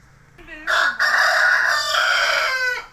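A rooster crows loudly and close by, one long strained cock-a-doodle-doo lasting a couple of seconds, preceded by a brief cluck.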